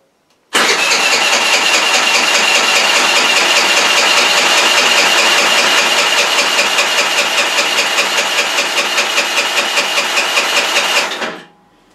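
A motor scooter with its carburetor primed is cranked to start. A loud, steady, rhythmic mechanical chatter runs unbroken for about eleven seconds, then cuts off abruptly.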